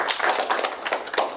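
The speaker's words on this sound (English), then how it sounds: "A round of applause for all of you, please" Studio audience at a Nigerian accountancy quiz TV game show clapping, a short burst of dense, close applause with no talk.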